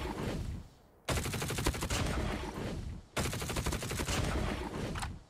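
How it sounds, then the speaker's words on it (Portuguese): A gun in Call of Duty Mobile fires long automatic bursts of rapid, evenly spaced shots, loud and close, with three sustained volleys separated by brief pauses. "Vocês vão ver o som dela de disparo."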